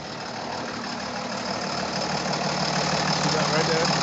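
Diesel engine running steadily, a continuous rough low rumble with knocking texture, close and loud, holding an even level throughout with no talking.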